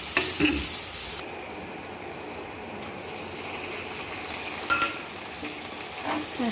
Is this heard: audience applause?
no